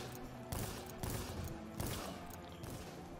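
Gunfire in a shootout video game, with several loud broadband shots spaced about half a second apart over a steady background bed.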